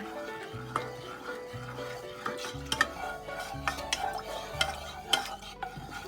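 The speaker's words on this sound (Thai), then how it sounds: "ใส่เจลาตินที่เราแช่น้ำเย็นไว้นะคะ ใส่ลงไปแล้วคนให้ละลายนะคะ" A spoon stirs soaked gelatin into a warm mango pudding mixture just taken off the heat. It scrapes the pot in a steady, repeating rhythm of close taps and swishes over soft background music.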